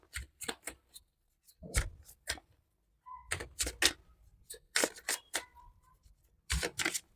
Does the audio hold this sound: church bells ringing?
no